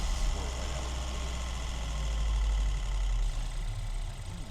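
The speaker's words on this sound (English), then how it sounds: "engine noise" A 2013 Mini Cooper S Roadster with a 6-speed gearbox runs with a low, rumbling engine drone heard from inside, swelling slightly in the middle and then easing back, with no speech.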